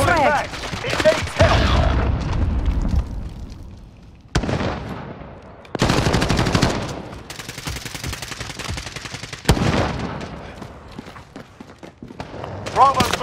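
Gunfire in the video game Call of Duty Warzone, loud automatic bursts and booming blasts in several separate volleys, mixed with in-game voice callouts.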